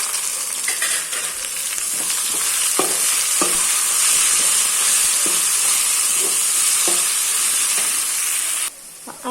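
Chopped tomatoes sauté in a hot pan of onion rice, giving a loud, steady sizzle with a few soft stirring scrapes and taps, and no voices.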